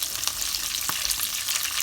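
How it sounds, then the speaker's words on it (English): Sesame seeds and curry leaves sizzle in hot oil in a small tadka pan, giving a loud, continuous close-up crackle with a few sharper pops and no voices. "this is all just going to kind of sizzle up in my pan"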